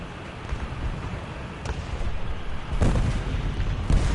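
Heavy gunfire and booming blasts in a D-Day war video game, dense rumbling bursts running throughout with louder impacts near the end, no talk.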